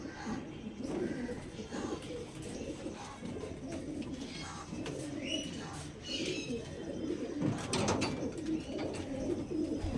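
High-quality star kalanka pigeons kept for sale, cooing in soft, repeated murmurs amid a busy, noisy background with people talking nearby.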